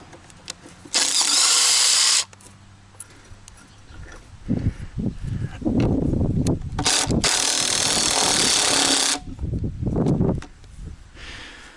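Power drill backing bolts out of an industrial cart, with two long loud whirring bursts separated by clanks, rattles and handling noises of metal parts nearby.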